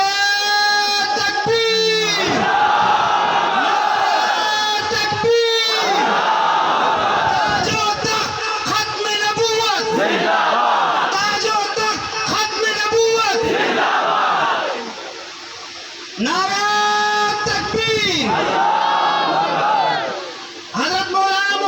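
A crowd at a religious gathering shouts slogan responses in loud bursts, many voices roaring together in repeated waves between a leader's calls, with brief pauses between rounds.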